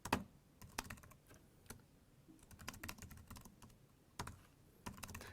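Quiet, irregular keystrokes on a computer keyboard as network switch commands are typed, with clustered clicks and short pauses, heard alone without talk.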